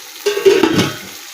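Fish frying in a pan, with a loud close burst of sizzling and spattering oil that rises quickly and then fades to a softer hiss.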